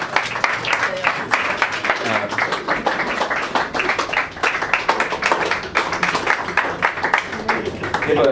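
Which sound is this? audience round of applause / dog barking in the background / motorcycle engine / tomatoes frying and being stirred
audience round of applause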